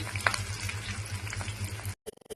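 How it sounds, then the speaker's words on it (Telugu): Onions fry in hot oil in a pan, giving a soft, steady sizzle with faint bubbling that lasts about two seconds and then cuts off abruptly. "ఆయిల్ హీట్ అయింది. సో మనం ఫ్రైడ్ ఆనియన్స్ చేసుకుందాం"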